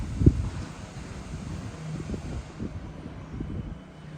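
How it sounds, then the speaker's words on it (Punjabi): Low, gusting wind rumble buffeting the microphone on a cloudy, stormy evening, steady with fluctuating surges and one brief thump near the start. "ਬਹੁਤ ਹਵਾ ਚੱਲ ਰਹੀ ਹੈ"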